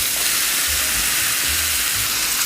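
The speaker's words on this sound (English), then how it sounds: "Combine the onion with the mushrooms. We're going to let this cook away for about 5 to 7 minutes" Diced sweet onion frying with mushrooms in salted butter, a steady close sizzle with faint hiss and occasional low stirring thumps throughout.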